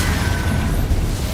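A Confringo blasting spell goes off in Hogwarts Legacy as a loud, dense, rumbling blast that holds steady for a moment, heavy in the low end, with no voices.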